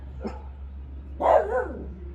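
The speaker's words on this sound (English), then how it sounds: "Barking, my dogs are out here." Dogs bark outdoors near a home: a faint yip early on, then a louder burst of a couple of close barks, with a steady low hum underneath and no talking.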